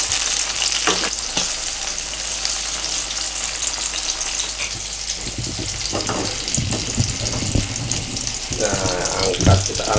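Spring onions and chillies fry in a pan for a spicy sambal, a loud continuous sizzle with stirring scrapes and knocks that grow busier toward the end.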